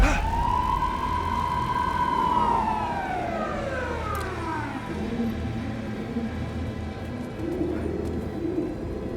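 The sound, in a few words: police car siren in video game Alan Wake 2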